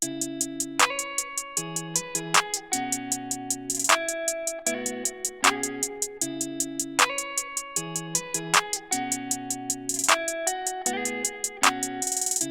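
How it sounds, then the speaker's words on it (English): A steady electronic beat with crisp hi-hat ticks, lightly reverbed, running in a fast, even pattern over bass and melodic synth layers in an FL Studio guitar-based beat, loud and continuous. "what I did next was I put a hi-hat pattern down."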